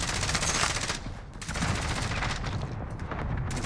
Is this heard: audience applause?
no